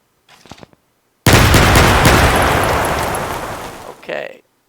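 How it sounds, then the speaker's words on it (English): Explosion sound effect played in a game engine while setting up a loot spawner: one sudden, loud blast that rumbles and slowly fades over about three seconds, with a brief voice just before and after. "We'll go with explosion."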